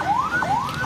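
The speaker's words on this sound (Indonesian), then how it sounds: "sopir ambulans dari Puskesmas Tambora ini sudah menyalakan sirine dan lampu rotator" A Puskesmas Tambora ambulance siren wails in rising sweeps, loud and close, two cycles heard without talk.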